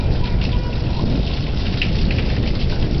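Heavy thunderstorm rain pours steadily in Plainview, Texas, a loud, dense, unbroken roar of downpour close to the microphone.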